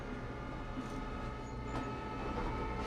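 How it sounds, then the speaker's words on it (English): Train from Train Sim World on the Northeast Corridor near Newark Liberty Airport, a loud, steady rolling rumble that stays close and unbroken throughout. "I'd have got run over by that damn train is what would have happened."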